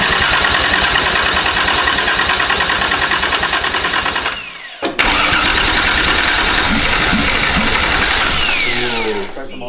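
A Toyota 1JZ VVT-i swapped into a BMW E36 starts for the first time and runs loud and close with a rough, pulsing idle. It cuts out briefly, then catches and keeps running until it drops off near the end.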